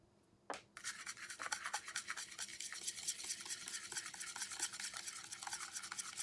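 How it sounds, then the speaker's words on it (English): A whisk beats wet and dry ingredients into cornbread batter in a bowl, a fast steady scraping rhythm that starts after a brief knock and continues close and clear without talk. "I like to slowly incorporate it in and whisk and stream in so I don't get clumps"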